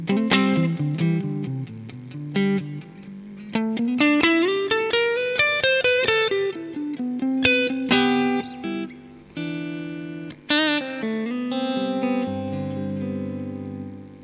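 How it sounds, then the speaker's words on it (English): Electric guitar through a Boss DD-500 digital delay pedal on its short Terra Echo preset, with melodic phrases and chords trailed by smeared, modulated repeats, played alone at steady volume. "And the last preset we'll just check out briefly, short Terra Echo."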